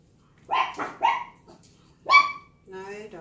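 A dog barks three times in quick, sharp bursts, then gives a longer whining yelp, fairly close and alone in a quiet indoor space.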